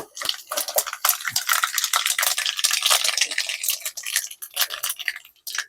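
Dense, rapid crackling and popping of mustard seeds spluttering in hot oil, loud and close, thinning out toward the end.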